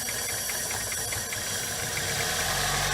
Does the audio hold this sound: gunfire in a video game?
no